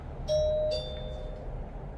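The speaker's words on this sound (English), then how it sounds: "Mummy Pig rings the doorbell." A two-tone doorbell chime rings once, a bright ding followed by a lower dong that fades out, with steady low background hum.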